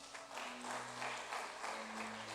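A church congregation claps together in a steady, rhythmic stream of applause, moderately quiet and unbroken, with no voices standing out.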